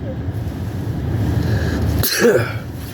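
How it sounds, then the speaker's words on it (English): A single sharp sneeze bursts out near the end after a stretch of low background rumble, close and fairly loud. "I got to sneeze."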